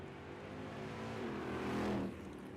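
Drag race cars launching at Holly Springs Motorsports during the IHRA Summit Super Series World Finals, a distant engine roar that swells and peaks before dropping away abruptly, heard faintly at low volume.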